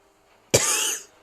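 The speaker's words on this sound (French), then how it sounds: "Je sais pas qu'est-ce qui se passe en ce moment, je fais que tousser." A single sharp, close cough breaks the silence, short and forceful with a raspy tail.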